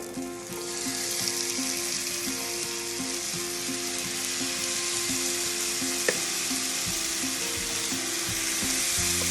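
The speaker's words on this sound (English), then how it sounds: "we're going to sear them for 2 to 3 minutes on each side" Oxtail pieces searing in a hot pan, giving a loud, steady, close sizzle and crackle of frying throughout, with a faint mechanical hum and one brief sharp click partway through.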